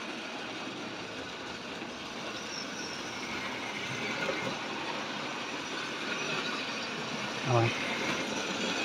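Tri-ang model railway train rolling along with wagons in tow, a steady close rattle and hum of wheels on track with a brief louder knock near the end; a voice speaks briefly.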